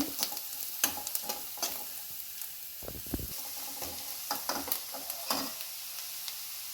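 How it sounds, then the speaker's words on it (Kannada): Onions fry in a pan until golden, a steady low sizzle punctuated by repeated scraping stirs and light utensil knocks, close and without talk. "ಈರುಳ್ಳಿ ಚೆನ್ನಾಗಿ ಫ್ರೈ ಆಗಬೇಕು, ಗೋಲ್ಡನ್ ಕಲರ್ ಬರೋವರೆಗೂ ಉರಿಬೇಕು."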